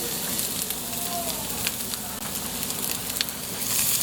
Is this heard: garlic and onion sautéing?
yes